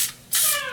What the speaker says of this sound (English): There you go. A little bit of spray.